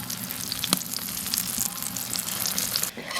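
Filled flatbreads frying in oil in a flat pan, a dense close sizzle with a few crisp pops, steady until it thins out near the end.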